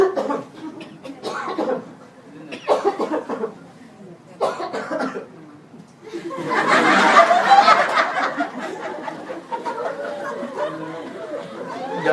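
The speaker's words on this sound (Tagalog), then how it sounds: "Kapag umubo," Coughing from a person with a viral respiratory infection, a dense burst of hacking in the middle with a person talking around it.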